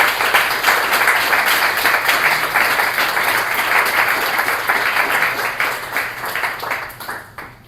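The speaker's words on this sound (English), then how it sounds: "let's have a round of applause for all of our readers today" A crowd applauds readers at a literary reading event, steady loud clapping that thins out and fades in the final seconds.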